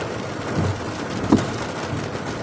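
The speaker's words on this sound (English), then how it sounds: "the rain is coming down like all hell right now" Heavy rain pours down on a mountain top as a steady, dense wash of sound, with a faint low rumble of distant thunder rising briefly midway.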